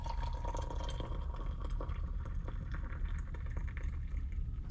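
Hot water being poured for morning tea, a steady close-up liquid rush and trickle with faint drips, continuous and fairly quiet throughout, with no voices.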